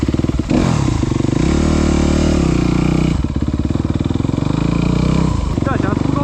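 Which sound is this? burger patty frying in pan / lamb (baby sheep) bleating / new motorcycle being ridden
new motorcycle being ridden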